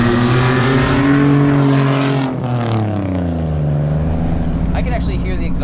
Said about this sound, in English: I can actually hear the exhaust idling through the car.